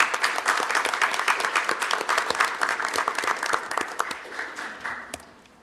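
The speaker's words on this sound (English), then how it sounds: "So one more round of applause for them." Audience at a village board meeting applauds steadily for several seconds, dense clapping from a room full of people that tapers off at the end.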